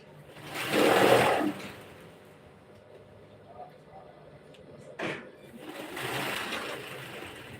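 A sewing machine stitches fabric in two short whirring runs separated by a quieter pause and a single knock, fairly close and loud.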